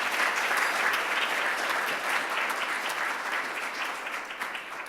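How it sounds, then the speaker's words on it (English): An audience applauds at an annual meeting, a dense, steady clapping that fills the room for several seconds and tapers slightly toward the end, without talk. "Please give them a round of applause for their commitment."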